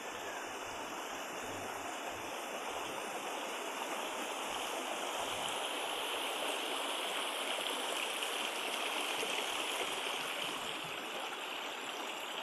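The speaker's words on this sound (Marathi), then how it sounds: "अशा पद्धतीचं बघा कळकळ पाण्याचा असा आवाज येत आहे।" A stream flowing near a waterfall cave, a steady, fairly faint broadband rush and gurgle of water that continues evenly throughout with no talking.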